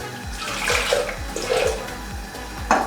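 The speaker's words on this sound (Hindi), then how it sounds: "थोड़ा सा पानी ऐड करेंगे इसमें।" Water runs and splashes steadily into a pan of blended chicken korma mixture, a continuous pouring sound with light gurgling, up close and alone.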